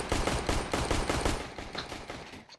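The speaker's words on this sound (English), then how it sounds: "Shoot the gun" A video game gun fires in a rapid, evenly spaced automatic burst, close and punchy, for about two seconds before it cuts off.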